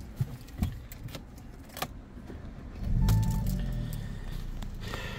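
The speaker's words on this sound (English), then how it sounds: "And then I'll start her up so you can hear it." A 2016 Audi S3 2.0 quattro with a 306 bhp engine: a few key and interior clicks, then the engine cranks and catches, settling into a steady low idle, fairly close, with no talk.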